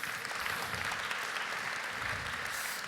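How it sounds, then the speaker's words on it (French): Sustained applause from an audience at a French Touch event, a dense, steady wash of many hands clapping without pause, moderately loud and fairly close, with no voices over it. "ça s'applaudit quand même"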